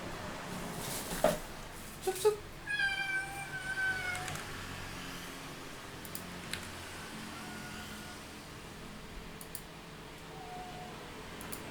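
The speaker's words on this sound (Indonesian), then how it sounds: "Sebentar, ada kucing." A cat meows a few times near the start, thin rising-falling calls fairly close, then steady faint room hiss with no other activity.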